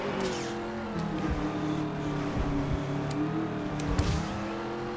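A vehicle engine in the video game Just Cause 3 revs and accelerates, a loud, close, steady roar with wavering pitch and occasional thumps, with no talking.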